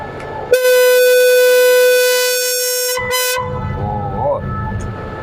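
A train leaving Hat Yai railway station sounds a loud, sustained horn blast, then a second shorter blast, followed by rumbling rail noise nearby.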